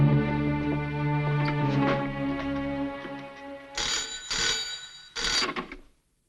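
A telephone rings in a tense indoor scene, a steady ring that gives way to a few sharper bursts before cutting off into silence, fairly quiet with no talk over it.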